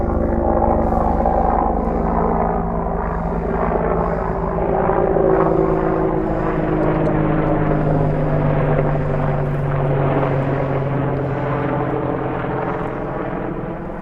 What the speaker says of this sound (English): here comes a Black Hawk helicopter.